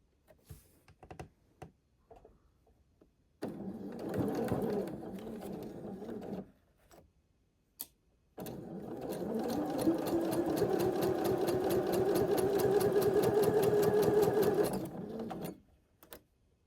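A sewing machine stitches a flying geese quilt block: short ticking starts, then a long steady rapid whirring run of needle strokes, loud and close, with brief pauses between runs.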